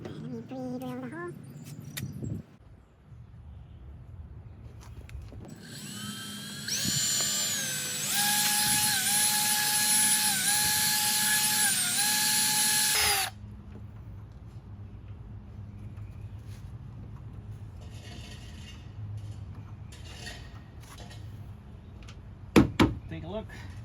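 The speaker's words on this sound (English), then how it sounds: "Let me pre-drill the hole." Power drill whirs loudly for several seconds, pre-drilling a bolt hole for a Dee Zee tailgate mat on a 2021 Ram 2500 tailgate, its motor pitch shifting under load, with someone talking before and after.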